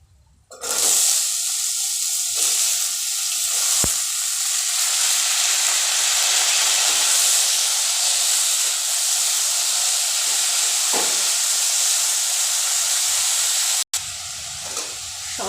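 Moong dal and cut cucumber frying in hot oil in a pan give off a loud, steady hiss and sizzle that runs unbroken for the whole stretch, with a few brief clinks of stirring near the start.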